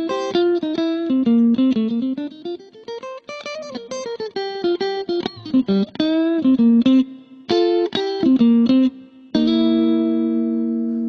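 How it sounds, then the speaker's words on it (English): Electric guitar played through a Roland Cube amp on its JC Clean setting, modeled on the Jazz Chorus JC-120, giving a bright, clean, chorused tone: a run of picked single notes and chords, then a sustained ringing chord, with no talking. "sort of a repro on their jazz chorus,"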